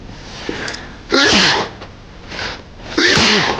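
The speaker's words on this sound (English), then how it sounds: "Oh, I'm gonna sneeze." Two sharp sneezes, the first preceded by a quick inhale, with a short gap between them and faint background noise.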